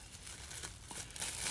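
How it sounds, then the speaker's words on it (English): A plastic bag caught on a retail security tag crinkles and rustles in a steady, close, dry texture for a moment, with no voices. "Now I got a plastic bag stuck on here."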